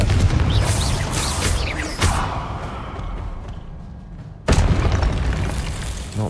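Spell blasts in the video game Hogwarts Legacy, loud booming explosions with crackling debris, one heavy burst at the start, another midway, and a sharp blast near the end.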